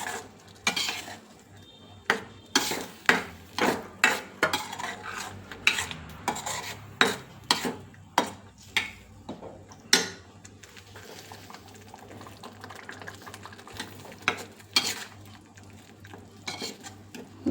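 Crab sukka masala with tamarind puree cooks in a pan on a low flame, with repeated metal spatula scrapes and clinks against the pot in uneven bursts over a faint sizzle.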